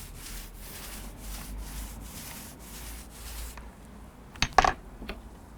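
A paint roller is drawn along the grain of wooden decking with wood paint, making soft rhythmic rubbing strokes, then a couple of brief sharp knocks near the end.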